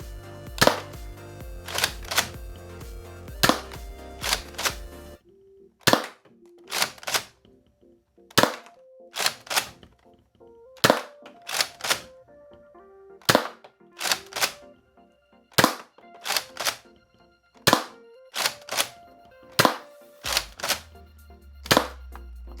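A Nerf springer blaster with a Modulus chrono barrel attachment fires about ten sharp, evenly spaced shots, each a crisp snap with a short mechanical clatter, close and loud, with brief pauses of priming between them.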